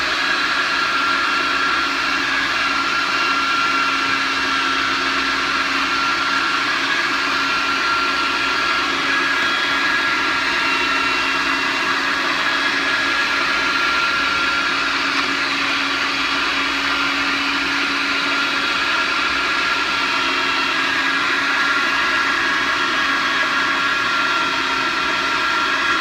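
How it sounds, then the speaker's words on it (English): An electric juicer crushing tomatoes into juice runs as a loud, unbroken motor whine with a steady high hum, close and constant for the whole stretch, with no talking. "I'm going to push these tomatoes down here and the juice is going to come out into this bowl."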